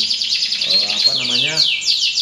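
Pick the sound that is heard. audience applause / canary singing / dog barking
canary singing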